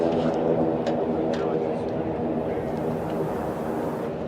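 A racing airplane with an R1340 radial engine turning its propeller at about 3,000 RPM during a national championship air race, a dense, steady droning roar held throughout.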